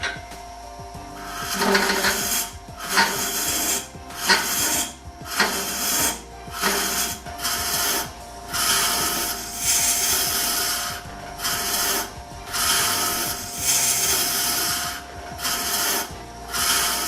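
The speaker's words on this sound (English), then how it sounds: "We will continue to hollow, but make regular stops to clear shavings and check our progress." Wood being hollowed on a spinning lathe with a Robert Sorby Sovereign Ultima tool, producing a continuous scraping, rasping cut that swells and fades in a steady rhythm over a constant motor hum.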